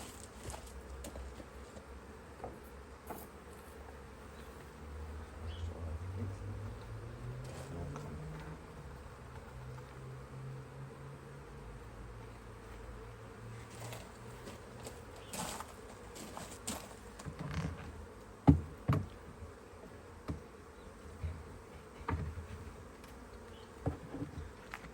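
A swarm of honey bees hums inside a hive with a faint, continuous buzz. A few louder knocks and bumps come near the end.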